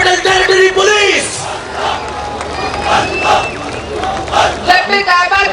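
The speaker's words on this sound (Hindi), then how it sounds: "भरपूर तालियों में इस्तकबाल कीजिए CDD commando unit Islamabad capital territory police." A large outdoor crowd at an Independence Day police parade in Islamabad, cheering and shouting in loud rising bursts with whoops, as the CDD commando unit of the Islamabad Capital Territory Police is welcomed.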